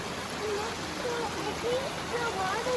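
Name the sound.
stream water flowing under a bridge near a waterfall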